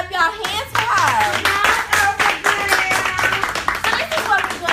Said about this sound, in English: So y'all gotta clap y'all hands for her.